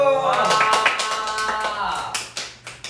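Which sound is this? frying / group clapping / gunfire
group clapping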